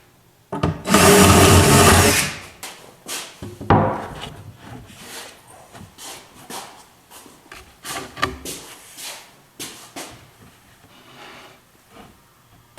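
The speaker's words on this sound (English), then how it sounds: "first thing I got to do is put in 4 pilot holes" A drill bores pilot holes into an oak nightstand top: one loud burst of about a second, followed by a string of lighter knocks and clatter from handling the wood.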